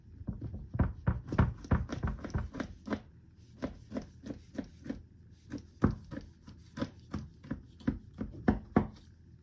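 A knife cuts through baklava in a baking tray, a rapid series of crisp, crunchy chopping strokes with short pauses, close and fairly quiet.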